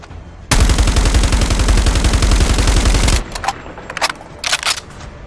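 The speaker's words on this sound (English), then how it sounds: "The difference of firing sound of the FR556 is insane." Rapid automatic gunfire from the FR556 rifle in COD Mobile, a loud, dense burst of about three seconds with evenly spaced shots, then a few short clicks and brief rattling bursts.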